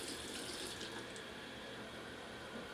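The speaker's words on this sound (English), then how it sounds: "Warm water to it." Warm water runs steadily from a tap into a sink, a close, continuous hiss and splash with no talking.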